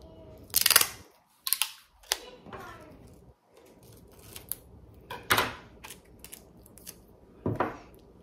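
Tape is pulled and torn to secure a ribbon on a balloon gift, giving several sharp ripping and crinkling bursts spaced apart amid quiet handling noises.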